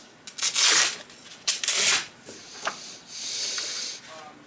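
Tondeo German hair shear blade being honed on a 1200 grit stone, with a few close, hissing rasping strokes of uneven length separated by short pauses, followed by a longer steady scrape.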